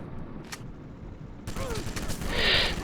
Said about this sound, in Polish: Skąd padły te strzały?